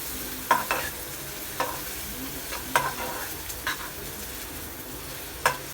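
Chopped onions frying in a pan, a soft steady sizzle broken by several sharp clicks and scrapes of a spoon stirring, close and fairly quiet with no voices.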